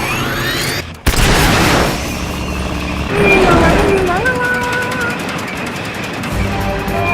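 A boss fires its boosters in Metal Gear Solid: Peace Walker. A sharp blast is followed by a loud, sustained roaring thrust with rising whines, under ongoing game noise.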